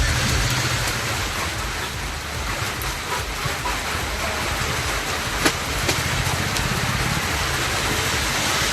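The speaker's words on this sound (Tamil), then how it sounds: "சீர்காழி அருகே கடலோர கிராமங்களிலும் கனமழை பெய்தது." Heavy rain pours over coastal villages near Sirkazhi in Tamil Nadu, a dense, steady roar of rainfall that fills the whole clip at an even level, with a faint tap or two and no voices.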